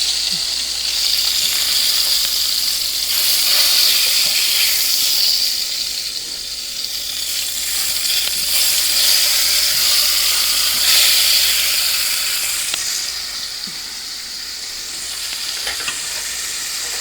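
Pork chops frying in a pan, a steady bright sizzle and crackle of hot fat that swells and eases in waves, close and continuous with no talking.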